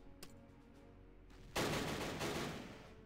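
Infantry gunfire in the Battle Academy war game against Italian coastal defenders: a few sharp isolated shots, then a loud sudden burst of sustained rattling fire that fades gradually.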